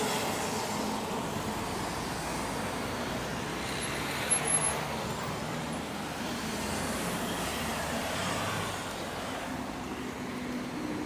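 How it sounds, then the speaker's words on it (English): A Ford council staff car drives through Skeoch Roundabout in Stirling, Scotland, its engine and tyre noise blending into a steady, continuous wash of roadway traffic with a slight swell midway. "It's Stirling Council staff car."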